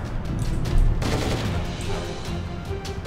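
Gunfire in a first-person shooter game, a dense run of shots and bursts with a heavier boom near the start, continuous and loud throughout, with brief voices underneath.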